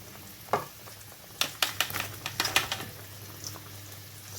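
Pieces of fried bele fish, eggplant and lentil bori drop into a boiling village-style curry broth, a few soft splashes and clatters over a steady low bubbling simmer.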